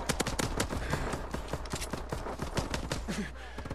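Rapid turret gunfire in the Advanced Warfare Exo Survival video game, a dense, fast string of sharp cracks with no break between them, loud and close.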